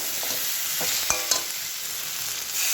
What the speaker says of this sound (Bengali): এবার এই ভেজে রাখা মাছগুলো দিয়ে দেবো। একটু মশলার সঙ্গে মিশিয়ে নেবো ভালো করে